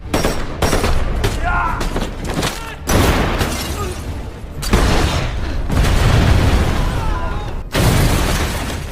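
Violent action-film combat with an RPG strike destroying a car: repeated heavy booms and bursts of rapid gunfire in loud clusters, with brief gaps between volleys.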